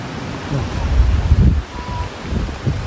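Strong wind blowing outdoors in Davao, a broadband rushing roar that gusts louder in the middle and eases off toward the end.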